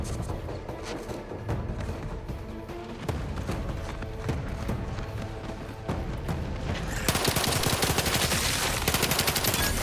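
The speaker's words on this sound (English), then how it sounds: "Dude, full auto pistol, what's up?" Full-auto pistol firing in a video game, dense rapid bursts of loud shots over game sounds and music, growing more intense toward the end.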